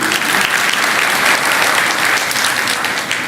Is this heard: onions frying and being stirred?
no